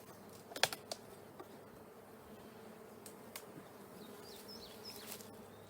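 Honey bees buzz faintly around an open hive during an inspection, with a few sharp clicks and taps early on and soft buzzing passes later.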